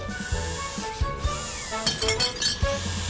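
Glass bottles and metal cans clink as a cartoon recycling truck collects them, several bright chinks and rattles over a steady background hum.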